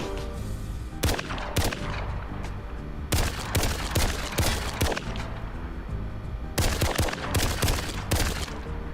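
Video game gunfire at a shooting range, loud and close, coming in several rapid automatic bursts with brief pauses between them.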